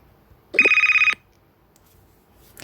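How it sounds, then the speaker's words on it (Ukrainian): A telephone gives a single short electronic ring, a rapid warbling burst of about half a second, loud and close in an otherwise quiet room. "Так, телефон."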